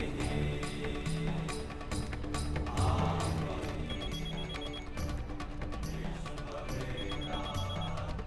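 A telephone rings again and again in a steady repeating pattern, fairly loud and clear over a soft dramatic music bed.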